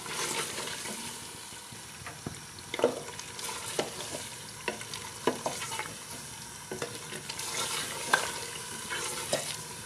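Mutton for Peshawari namkeen gosht fries and is stirred in a pan, with a steady sizzle and repeated scraping clinks of the spoon throughout.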